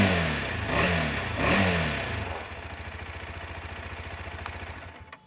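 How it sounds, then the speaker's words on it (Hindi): A modified KTM Adventure motorcycle revs up in several quick rising blips of exhaust, then settles into a steady, rapid idle thrum close by, ending with a couple of faint clicks. "अभी मैं इसको आपका एग्जॉस्ट नोट सुना के दिखाता हूँ।"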